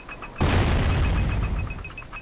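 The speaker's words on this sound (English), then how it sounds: "this is where you'll come to the cannon and you'll just fire off" A cannon fires in the Jak and Daxter video game at a beach, a single loud boom that bursts suddenly and then rolls on as a sustained rumbling blast with no voices over it.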